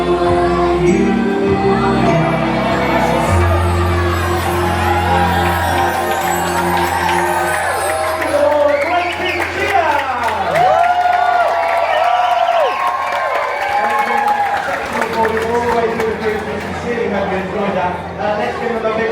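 An audience aboard a Disney cruise ship cheers, whoops and applauds a stage show, a loud sustained roar of crowd noise with music and amplified voices running underneath.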